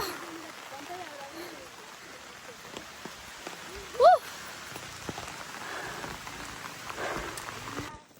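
Steady rain patters on a surface nearby at a fair, a continuous hiss with people talking now and then underneath.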